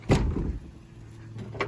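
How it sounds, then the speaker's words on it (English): A stuck car door is forced open, giving one loud thud and clatter at the start, then quieter rattling, with a sharper knock near the end. "the doors are kind of stuck."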